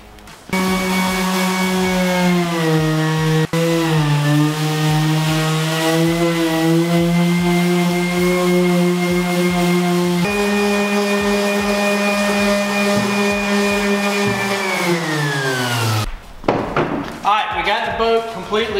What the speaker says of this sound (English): And we're going to sand all this down.